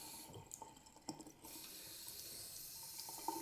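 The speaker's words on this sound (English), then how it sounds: "Cold water, you have that flow." Cold water pouring from a waterfall-style bathroom faucet into a sink, a steady close hiss of flowing water, preceded by a few clunks, with no talk.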